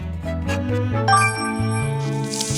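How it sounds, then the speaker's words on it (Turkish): A bright electronic school bell in a video game rings with a series of tinkling, melodic tones that change pitch, clear and close, with no voices. "Kahretsin zil hep çok kötü bir zamanda çalıyor."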